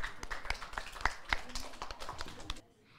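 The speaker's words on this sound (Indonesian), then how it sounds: "Berikan tepuk tangan untuk Gung Arma dan kawan-kawan" Scattered hand claps at a kindergarten children's event in Singaraja, a handful of sharp claps spread across a few seconds with some background voices, then stopping abruptly near the end.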